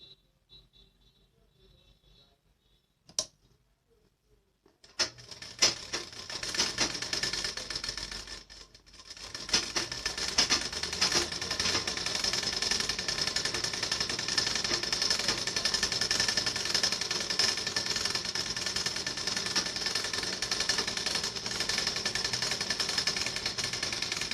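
A sewing machine stitching the lining side of a blouse, starting after a few seconds of near silence and a sharp click, then running as a loud, steady, fast mechanical rattle to the end.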